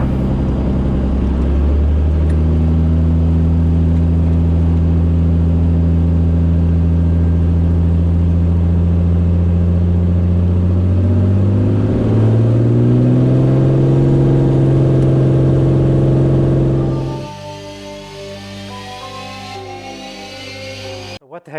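A white Bonanza airplane departs from a dry lake runway at a backcountry fly-in. The loud engine drone climbs steadily in pitch for about seventeen seconds, then drops abruptly to a quieter, noisier rush.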